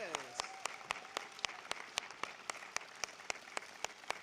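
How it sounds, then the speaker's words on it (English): Clapping at a college commencement, a fairly faint, sparse patter of individual claps in a regular rhythm, with a short vocal sound at the very start. "Let's please give them a round of applause."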